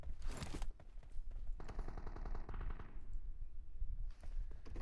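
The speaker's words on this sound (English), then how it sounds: "You do hear gunfire." Bursts of rapid gunfire crackle through a game soundscape during a tournament match, with a steady background rumble and short gaps between volleys.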